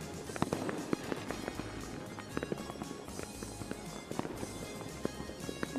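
Fireworks going off in a rapid, irregular series of sharp cracks and pops over a steady crackling backdrop, moderately distant, with no talk.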